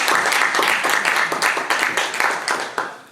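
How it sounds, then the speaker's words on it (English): Audience at a women's conference in Berlin claps in a fairly dense burst that thins and grows more uneven toward the end, without talk over it. "Applause for her again."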